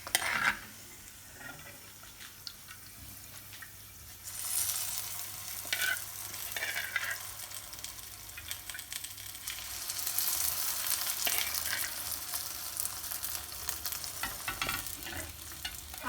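Pakoras added to kadhi and stirred, a soft liquid stirring with a low hum that swells into a fuller sloshing and bubbling texture partway through.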